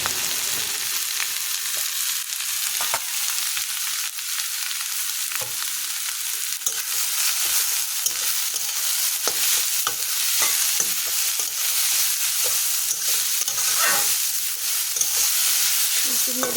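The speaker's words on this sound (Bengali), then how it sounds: "একটু নেড়ে চেড়ে নেব আমি" Slit green chillies fry in hot oil in a pan while being stirred, a continuous bright sizzle broken by frequent sharp clicks and scrapes of the spoon against the pan, close and fairly loud, with no talking.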